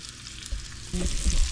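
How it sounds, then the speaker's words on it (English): Sausages frying in olive oil in a home kitchen pan: a steady, close, bright sizzle with occasional soft thumps as they are stirred or turned. "this is me frying them sausages"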